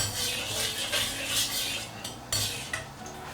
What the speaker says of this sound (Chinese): 先把番茄给它炒一下。